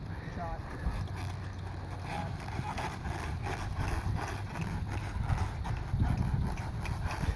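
Horse hooves clip-clop at a steady walking rhythm while the horse is ridden, soft and somewhat distant beneath wind rumble on the microphone.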